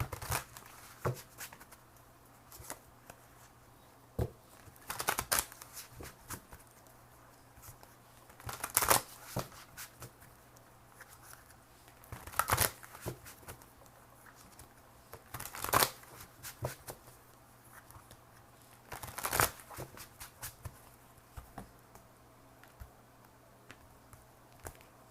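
Angel tarot cards are shuffled in several bursts, crisp riffling and slapping sounds separated by quiet pauses, close and fairly soft.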